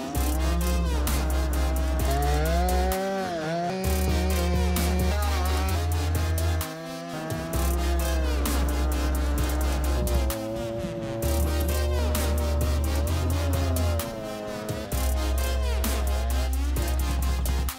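A Simson SR50 moped engine runs hard during a snowy race, its pitch rising and falling as it revs, loud and close throughout with a few brief dips.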